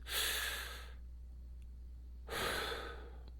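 Two slow, close breaths, each an airy rush of inhale or exhale separated by a quiet pause.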